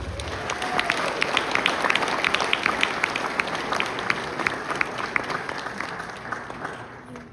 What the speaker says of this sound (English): let's give a round of applause for Mr. Starzynski